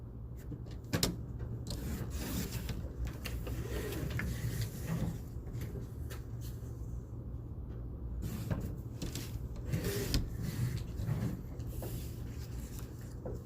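Paper is cut with a tool at a crafting table, producing repeated rubbing and rasping strokes with a few sharp clicks, close but quiet, with no talk.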